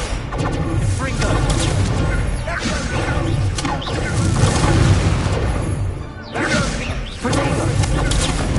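Combat spells in Hogwarts Legacy, including the Confringo blast, a loud, busy run of repeated booms, crashes and whooshes, with a brief dip near the end and a voice speaking over it.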